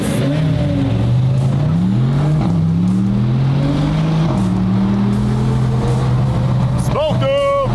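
A car engine revving hard, the pitch climbing and dropping in repeated surges, loud and close, with a sharp whining rise near the end.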